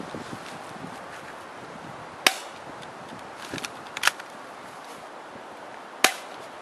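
Shots from a Galaxy 13 full-metal 1911 airsoft pistol fired outdoors at a target about 35 meters down a road: a few sharp, isolated snaps spaced seconds apart over a faint steady background hiss.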